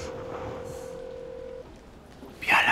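Unanswered telephone call ringing tone, a single steady tone heard at moderate level for over a second, then stopping, followed by faint background noise and a brief brighter sound at the end.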